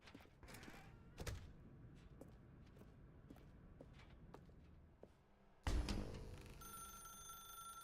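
A telephone rings in a dark room in the video game The Stanley Parable. It starts loud and sudden after a stretch of footsteps and soft thuds, then keeps ringing with a sustained electronic tone.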